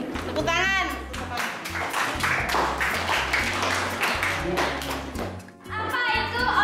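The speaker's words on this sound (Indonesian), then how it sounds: "Tepuk tangan." Children in a classroom clap together in rhythmic, fairly loud bursts, with a teacher's voice and kids' voices speaking over and between the clapping.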